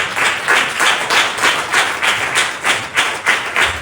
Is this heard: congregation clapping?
yes